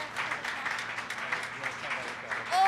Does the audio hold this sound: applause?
yes